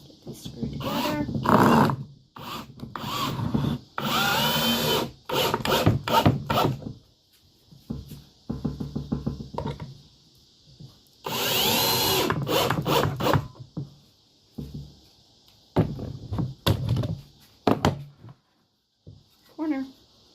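A power drill whirs in repeated bursts driving screws into wooden boards for a raised garden bed, with rasping and knocking between runs, some short and some long.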